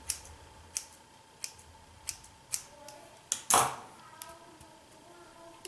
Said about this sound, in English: I'm just going to take a little bit and kind of just trim to fade it in